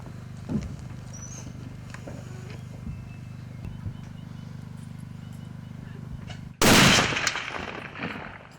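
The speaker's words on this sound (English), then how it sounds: "getting ready to sight in the rifle. Make sure she's shooting straight for us" A single loud rifle shot cracks out while a hunting rifle is sighted in before a Yukon Dall sheep hunt, a sharp burst followed by a decaying echo after several seconds of quiet outdoor background hum.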